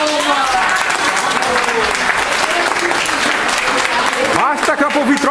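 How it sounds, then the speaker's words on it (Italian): Sustained audience applause at a finale gathering, dense continuous clapping with crowd voices and chatter mixed in, loud and near throughout. "l'applauso ci vuole per nome."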